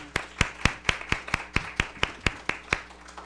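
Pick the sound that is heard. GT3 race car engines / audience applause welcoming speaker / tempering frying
audience applause welcoming speaker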